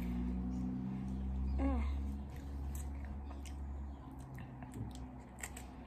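Crunchy chewing of Cap'n Crunch cereal by a blindfolded taster, a run of close, soft crackling bites under low room noise, with a brief voice sound partway through.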